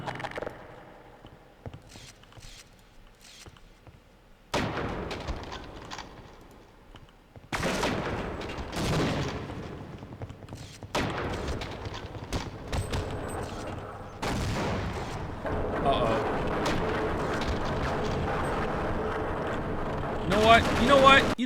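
A grenade blast and bursts of gunfire from the video game Half-Life Opposing Force ring out loud and dense through most of the stretch, with occasional talking mixed in.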